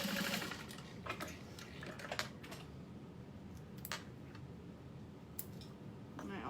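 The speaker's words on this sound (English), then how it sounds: "I sewed down the center line of that" A sewing machine stitches down the center line of a Brooklyn handbag, a faint low whirring run broken by sharp clicks and taps from handling, quiet and close, with no speech.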